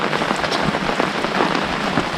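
Steady rain falling while camping at Maquoketa Caves State Park in Iowa, a dense, even hiss of drops pattering on a surface, loud and close and continuous, with no voices.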